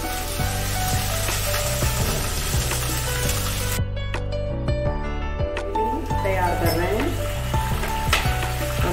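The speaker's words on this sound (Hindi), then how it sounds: "ये 2 चम्मच ऑयल डालेंगे। इसमें हम पहले पनीर डालेंगे।" Small paneer cubes fry in two spoonfuls of oil, producing a loud, constant sizzle and spatter with stirring, while background music plays underneath throughout.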